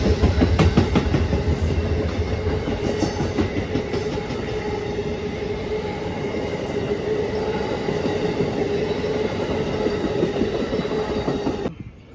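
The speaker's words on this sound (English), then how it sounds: "And there's a train coming right now." A train rumbles steadily past close by in Ashland, Virginia, with continuous clattering wheels and a faint high squeal, the roar holding level before cutting off abruptly.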